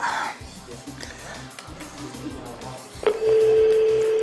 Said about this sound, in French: Ça sonne